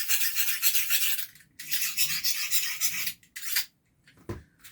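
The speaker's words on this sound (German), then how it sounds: "jetzt muss ich aber noch mal ein bisschen schleifen" Hand sanding on the blade of a Katzbalger LARP sword being repaired, a close, bright abrasive rasping in long strokes with short pauses between, ending in a few brief scrapes and a soft knock.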